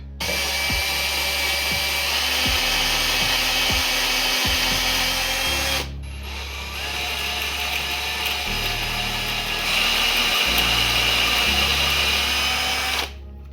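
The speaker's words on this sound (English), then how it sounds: "We have the wood board standing up, and we're gonna do holes on the end using the same jig." A power drill bores holes into the end of an upright wood board through a jig, a loud close whine running steadily in long stretches with brief pauses and pitch shifts as the bit cuts.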